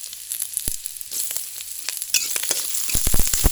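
Shallots and garlic sizzle and crackle in hot oil, with a steady frying hiss and sharp popping spits that grow denser toward the end, no voices.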